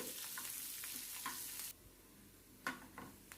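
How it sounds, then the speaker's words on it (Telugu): Soft, steady sizzling of onions, dried red chillies and curry leaves frying in oil, with a few stirring scrapes and clinks; the sizzle drops quieter partway through. "పోపు రెడీ అయిపోయిందండి ఈ విధంగా ఉల్లిపాయలు మంచి కలర్ వచ్చినంత వరకు మనం పోపును వేయించుకుంటే"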